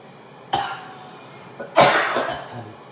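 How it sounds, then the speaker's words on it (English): Two rough coughs, a short one followed by a louder, longer one, close to the microphone with no talking. "sorry, I still have this cough"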